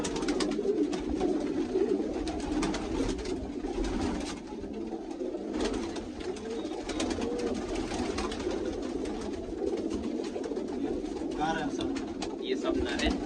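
Pet pigeons, crested male birds kept by a pigeon fancier in Hasanpur, India, cooing in low rolling murmurs close by, with several birds overlapping continuously while people talk nearby.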